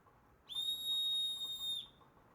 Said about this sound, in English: And then we got the medium size.